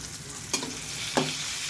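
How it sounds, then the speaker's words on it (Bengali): A chicken burger patty fries slowly in a pan over low heat and is turned. A steady soft sizzle carries two brief scraping clatters, close up and without speech. "এই যে দেখেন, উল্টিয়ে দিচ্ছি। ধীরে ধীরে জাল দিয়ে ভাজবেন যাতে মাংসটা সিদ্ধ হয়ে যায়।"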